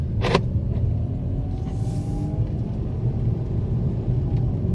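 A Mercedes with a repaired automatic transmission rumbles steadily from inside the cabin, its engine note holding through a gear shift, with one brief sharp knock near the start.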